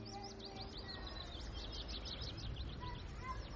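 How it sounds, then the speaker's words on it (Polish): Several small birds chirp and twitter continuously at a moderate distance outdoors, their quick repeated calls heard over a steady broadband background. "Jak te ptaki cudnie śpiewają."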